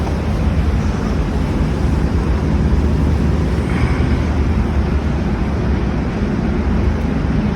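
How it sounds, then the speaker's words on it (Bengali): Strong wind roars steadily at a petrol pump at night during a storm in Ladakh, a loud, continuous broadband rush with gusty buffeting against the microphone throughout. "হাওয়া চলছে।"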